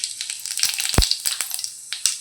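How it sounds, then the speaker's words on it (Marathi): Half a spoon of cumin seeds drops into hot oil for a Malvani-style sprouted field bean curry, giving close, crackly sizzling with sharp pops and one deep thud, with no talking. "आता त्यामध्ये अर्धा चमचा जिरं घालूया"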